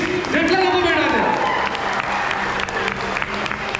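An audience at an influencer meetup bursts into loud, dense applause for soldiers, a crowd clapping continuously up close, with a voice speaking over the start.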